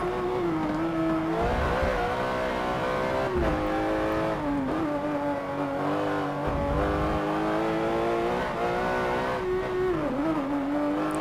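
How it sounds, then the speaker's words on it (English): A Porsche 911 GT3 RS, rear-engined and rear-wheel drive, revs high on a racetrack with a loud, continuous engine howl whose pitch climbs and dips through gear changes and corners, heard close and alone. "I love how high it revs as well."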